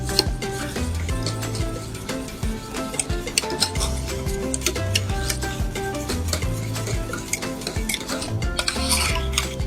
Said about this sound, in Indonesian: Nah, kita aduk rata.